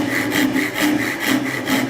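A Japanese pull saw cuts into wood guided against a jig, rasping in loud, regular strokes about every half second, close and unaccompanied by talk.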